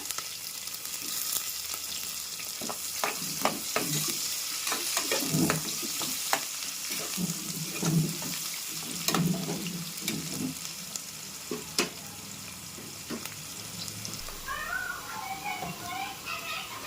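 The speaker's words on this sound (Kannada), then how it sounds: "ಇವಾಗ ಈರುಳ್ಳಿ ಹಾಕ್ತಾ ಇದ್ದೀನಿ ಈರುಳ್ಳಿ ಎಣ್ಣೆ ಚೆನ್ನಾಗಿ ಫ್ರೈ ಮಾಡ್ಕೊಳ್ಳೋಣ" Onions frying in oil for Tamil Nadu style mutton biryani, a steady sizzle with repeated spoon scrapes and clanks against the pot, a voice talking at times and faint background chatter near the end.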